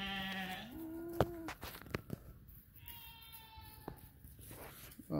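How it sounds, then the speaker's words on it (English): A goat on a homestead bleats several times in a hard freeze, with harmonic, wavering cries coming from a short distance away amid faint background noise. "And so the goat is doing perfectly fine. They're just over there, I guess, hollering for me"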